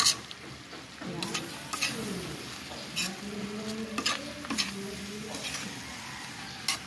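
A spoon stirs ginataang saging na may manok, banana and chicken simmering in coconut milk, in a pot. Soft scraping strokes repeat over a steady sizzle while a voice hums faintly underneath.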